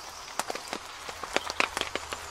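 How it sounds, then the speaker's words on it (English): Raindrops patter on a rooftop tent on a Land Rover, landing as scattered, irregular close taps over a quiet background. "You know, it's raining quite hard"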